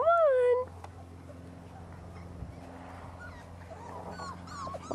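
Puppies whimper with high, wavering whines, one loud cry at the start and fainter whines near the end, heard outdoors under a low background hum.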